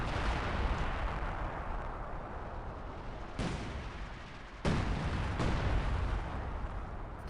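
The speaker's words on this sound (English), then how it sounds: "I think the KV2 is just barraging the area." A KV-2 heavy tank's artillery barrage in Company of Heroes 2, a continuous rumble of distant explosions punctuated by several sharp, loud blasts landing in quick succession near the end.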